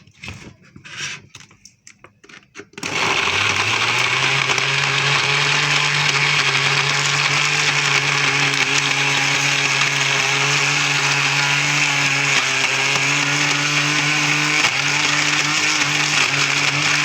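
A blender whirs loudly and steadily as it blends a banana and date milkshake with milk. A short stretch of quiet handling comes first, then the motor runs continuously at close range.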